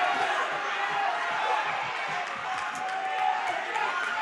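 A crowd roars steadily at a live boxing match, a continuous wash of cheering filling the arena for several seconds.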